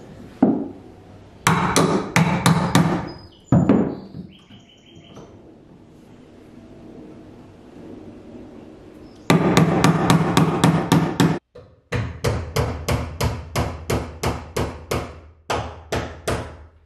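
A hammer strikes repeatedly in quick, sharp bursts of blows with brief pauses between rounds, close and loud, with no talking.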